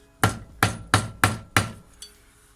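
A hammer strikes a rivet on a hip flask five times in steady rhythm, each blow a sharp metallic crack with a short ring, close and loud with no talk.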